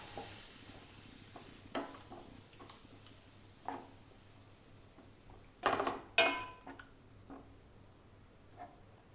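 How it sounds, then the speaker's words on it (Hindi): A spoon stirs a milk mixture in a pot for chhena kheer, giving soft intermittent scrapes and light clinks against the metal, with a couple of louder knocks near the end over a quiet kitchen background. "फिर हल्का सा चला लेती हूँ"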